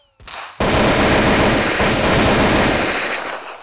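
Rapid AK-47 fire in Counter-Strike: a short click, then a dense, loud burst of automatic gunfire that continues steadily for about three seconds.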